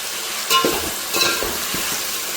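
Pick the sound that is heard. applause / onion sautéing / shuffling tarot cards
onion sautéing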